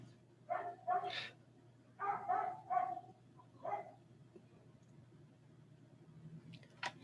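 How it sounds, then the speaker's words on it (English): A dog barks in a few short bursts at moderate distance, two single barks and then a quick cluster of three, a pause and one more, over a steady low background hum. "it's just like either a person or like a dog is barking"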